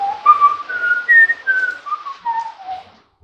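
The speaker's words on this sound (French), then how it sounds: "il n'est pas permis de siffloter la nuit" A person whistles a short descending melody of clear sustained notes, close and alone, with no talking.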